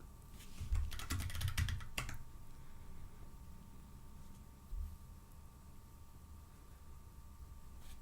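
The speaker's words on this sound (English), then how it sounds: "Everyone can see what I'm typing before I actually send it." Computer keyboard typing, a quick burst of clustered keystrokes in the first two seconds followed by a single stray click, then quiet room hum; close and fairly soft, with no voices.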